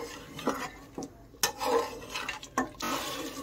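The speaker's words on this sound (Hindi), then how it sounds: "चलिए अब हम अदरक लहसुन के पेस्ट को भी 2 मिनट अच्छे से भून लेते हैं अपने गोश्त के साथ।" Ginger garlic paste is fried with mutton for Arabi gosht: a few close, uneven scraping strokes of a spoon against the pot, with brief clatters and soft background frying, no voices.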